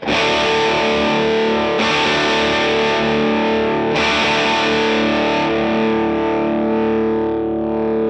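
Heavily distorted chords from a Gibson Trini Lopez electric guitar through a Fender Tone Master amp at full volume, a sustained crunchy chord struck again twice, each ringing out and slowly fading, no talking.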